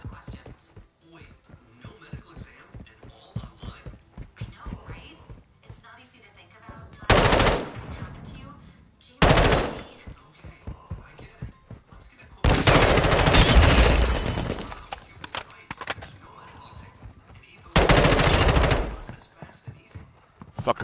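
Gunfire comes in loud bursts of rapid shots, with long rattling volleys between shorter ones, surrounded by outdoor clatter and some voices.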